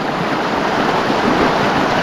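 Water at a campsite rushes in a loud, constant broadband wash, steady throughout and heard alone.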